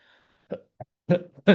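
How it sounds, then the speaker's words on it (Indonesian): A few short, harsh coughs in quick bursts, close and fairly loud, with brief pauses between them and no talking. "Sorry, lagi batuk."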